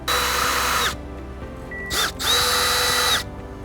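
A power drill whirs loudly in two bursts while backing out a steering column shroud screw on a 2010-2017 Toyota Tundra, with a brief blip between them and a spin-down pitch change at the end of each run.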